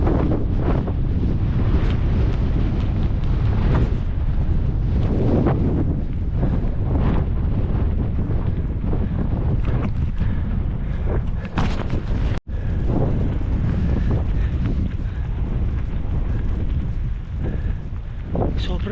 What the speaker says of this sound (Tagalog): Sobrang lakas sa hangin.